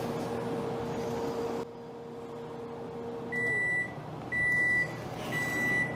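A microwave oven hums, then stops with a click, followed by three evenly spaced, sharp beeps close by and no talking.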